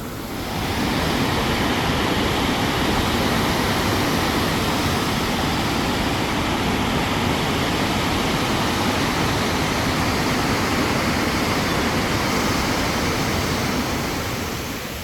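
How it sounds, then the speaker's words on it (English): Turbulent water jet and waves surging about ten feet high on a Wisconsin trip, a loud, steady broadband roar of rushing water that fills the whole span without pause. "dude, that water is coming out like a jet. And those waves, that turbulence right there"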